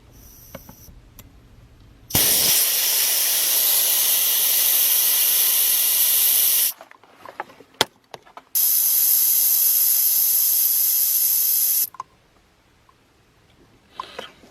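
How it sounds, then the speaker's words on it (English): Air hissing out of an Accusump oil accumulator as the valve core is pushed in with an Allen wrench: two long, loud, steady hiss bursts close by, separated by a brief pause and faint clicks. "I'm just going to push the valve core in until this thing drops down to the correct psi that I want"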